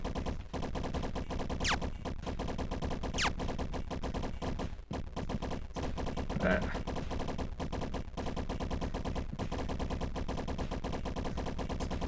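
Constant dense crackling impacts of asteroids hitting the ground in the game Space Defenders pound without pause, with a couple of brief whooshing sweeps overhead.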